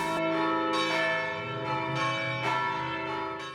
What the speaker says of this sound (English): These bells are announcing a celebration.